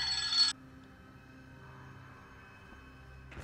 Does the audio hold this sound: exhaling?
no